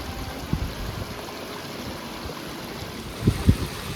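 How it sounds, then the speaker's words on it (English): A waterfall and stream in an Icelandic riverbed on the Snaefellsnes Peninsula give a steady, close rush of flowing water, with a few soft thumps near the end. "What do you think of this waterfall?"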